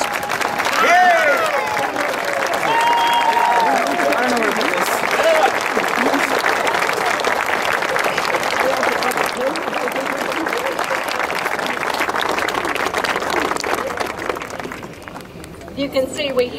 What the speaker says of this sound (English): Let's stand and cheer Cameron.